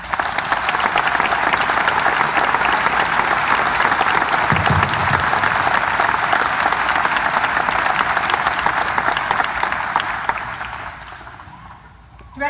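Sustained applause from an assembled audience honoring a director's leadership, steady and loud for about ten seconds before fading away near the end.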